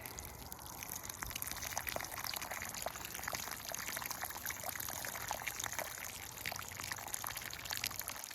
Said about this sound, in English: I'm gonna break up the roots and then I'm gonna water it in there. Really water it in there.